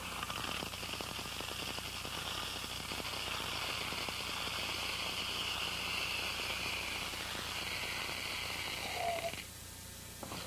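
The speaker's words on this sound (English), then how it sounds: "That almost sounds kind of like rain when it's hitting the bottom" Dried beans are poured into a plastic bottle, making a soft, continuous patter of many small rattling clicks like light rain that thins out near the end.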